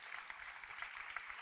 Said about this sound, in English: a nice round of applause here from the crowd as well